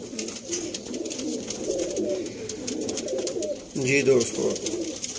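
Pet pigeons kept for sale in Sialkot coo in soft, repeated rolling calls close by, while someone talks over them throughout.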